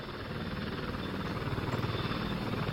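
A voice imitates a Blackhawk helicopter with a steady, dense whirring throb. The rotor-like pulsing holds at an even level and carries on unbroken.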